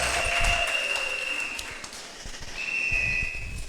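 A church congregation claps in a scattered burst, joined by sharp high whistles, with the applause swelling again after a brief lull.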